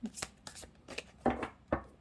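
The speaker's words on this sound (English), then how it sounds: "suddenly forgot how to shuffle there" Tarot cards being shuffled by hand in short riffling bursts, several quick rustling flurries with brief pauses between them, close and moderately loud with no talking.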